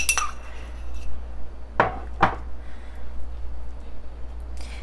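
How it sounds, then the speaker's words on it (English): A spoon scoops the last of an avocado from its skin, two quick scraping clicks standing out against a steady low hum, with a faint clink at the very start. "let me just scoop the rest of this out"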